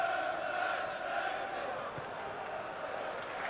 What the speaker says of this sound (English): Crowd encouraging him to shoot